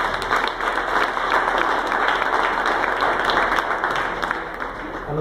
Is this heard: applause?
yes